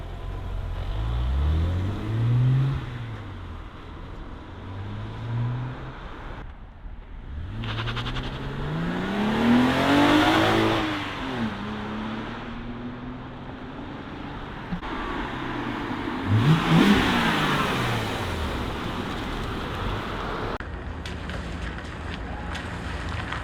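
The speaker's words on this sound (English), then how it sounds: "you're about to hear the car with the muffler delete" A BMW E90 with an N52 engine and a muffler delete revs loudly several times, each rise and fall of pitch rough and throaty, with wind buffeting the microphone throughout.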